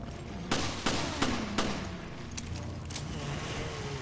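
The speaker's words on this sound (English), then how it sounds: "Somehow Jessica's pistol actually fires faster" Pistol gunfire in Resident Evil Revelations: four quick, evenly spaced shots ring out close, then two fainter shots follow over a low ambient hum.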